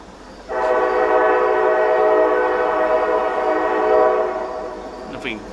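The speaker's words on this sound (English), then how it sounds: "Got the train on the other side of the river there." A distant train sounds its horn from across a river, a long steady multi-tone blast holding for nearly five seconds before fading, with no talk over it.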